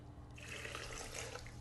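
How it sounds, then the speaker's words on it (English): Water poured into a container for vegan mayo, a steady faint splashing stream that starts after a brief pause and runs to the end. "then I put the remaining water in here"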